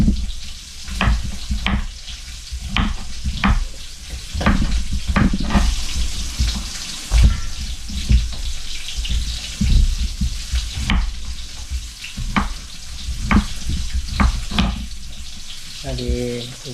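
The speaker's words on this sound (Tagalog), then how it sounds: "igisa lang natin ito" Food sautés in a pan, with steady sizzling and repeated scraping and stirring strokes close up at an uneven rhythm.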